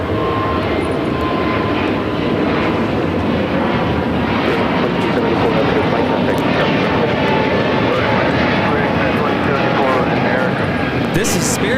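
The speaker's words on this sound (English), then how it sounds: "2074 taking off to Baltimore on the A320neo" A Spirit Airlines A320neo takes off at LAX on a hazy, cloudy day, its engines giving a loud, steady roar that holds throughout without letting up.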